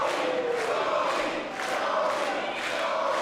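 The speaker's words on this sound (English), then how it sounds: "just listen to the crowd, how they're behind Jody" A wrestling crowd at an intergender match cheers and chants for Jody Threat, a loud, dense roar that swells and dips in a rhythmic, pulsing pattern throughout.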